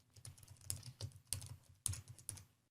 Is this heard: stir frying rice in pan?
no